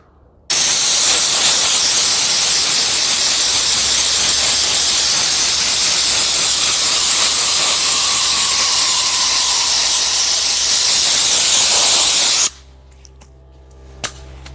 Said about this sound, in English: Get yourself a blower if you have an air compressor. We're just gonna air them out.